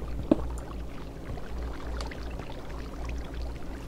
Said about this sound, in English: Ourselves a nice controlled waterfall here.